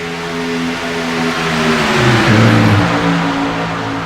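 Race cars in a Class B Xfinity race at Daytona roar past, a loud engine drone that swells and shifts pitch as the pack goes by, then settles into a steady whir.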